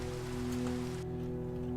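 Rain falls in a Minecraft modpack, a faint, steady hiss of patter under a low droning hum, thinning out toward the end.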